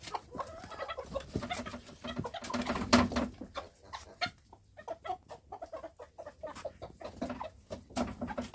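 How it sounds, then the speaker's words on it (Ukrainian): Naked neck chickens clucking close by, a busy scatter of short clucks and calls with bursts of flapping or pecking, no talking. "Такі у нас кури голошиє."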